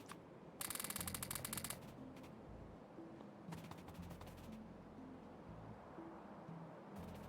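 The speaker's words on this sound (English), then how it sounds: "I'm gonna shoot some worms though" Gunfire in a factory-building game as worms are shot: short rapid bursts of machine-gun rattle with clicks between them over a low, faint background hum, with no voices.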